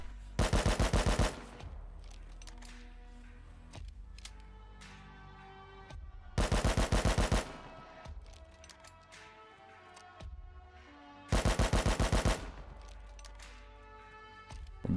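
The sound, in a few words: automatic rifle spray firing in the video game Rust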